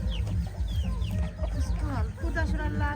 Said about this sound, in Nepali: भाले चाहिँ कस्तो खालको कुखुरा हो हेर त